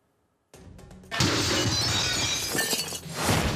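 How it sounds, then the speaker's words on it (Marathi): Glass beer bottles fall from a turning truck and smash loudly on a road after a brief quiet start, a sustained crash of breaking glass with scattered tinkling debris. "टर्न घेताना बिअरच्या बाटल्यांचा चक्काचूर."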